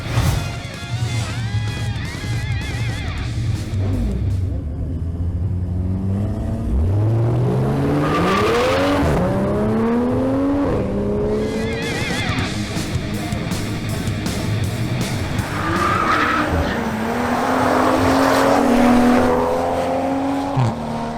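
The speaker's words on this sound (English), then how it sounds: "Now it's Omar Gonzalez's turn in his BMW M140i" A BMW M140i launches down a drag strip, its engine revving hard through rising pitch sweeps with gear changes, loud and close, and the car roars on toward the end.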